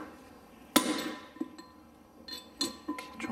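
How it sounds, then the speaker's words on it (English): A hammer drives a chisel against the back edge of a wheel bearing track on a Land Rover. Sharp metallic clanks land at irregular intervals, some ringing and some duller, close and loud, with no talk. "You catch the chisel on the back edge of the track."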